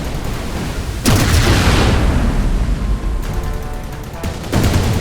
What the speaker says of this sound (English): Vehicle destroyed by enemy fire